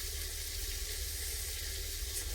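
Hot oil spatters and crackles steadily while kantia fish fries in a pan, a continuous close, bright sizzle with no voices.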